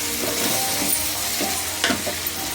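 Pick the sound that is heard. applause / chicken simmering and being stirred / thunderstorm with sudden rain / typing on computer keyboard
chicken simmering and being stirred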